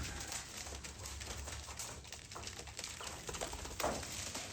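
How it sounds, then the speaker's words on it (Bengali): Domestic pigeons cooing softly while coming down to land at a feeding spot, low murmuring coos over a steady background hiss, with a brief flutter-like burst near the end. "এই তো কবুতর নামতেছে ভাই।"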